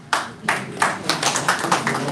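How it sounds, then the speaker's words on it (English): An audience at a Republican primary governors debate breaks into clapping, a brief round of scattered claps that starts sharply and quickly thins out. "Please withhold clapping until we get to the end of the program."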